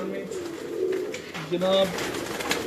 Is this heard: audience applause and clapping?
no